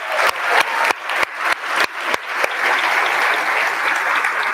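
An audience claps for a live music trio of guitar, drums and bass, starting with a handful of sharp, rhythmic claps that build into full sustained applause filling the hall.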